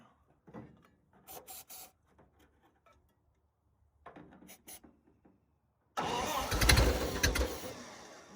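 A 1928 Ford Model A engine, idle for 75 years, first gives a few faint clicks and scrapes, then catches with a sudden loud roar and keeps running unevenly and near.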